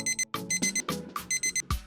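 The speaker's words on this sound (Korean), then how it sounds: "아침 6시 알람이 울립니다." An alarm clock rings at 6 a.m., a loud, bright electronic beeping in quick repeated bursts with short gaps, heard alone with no talking.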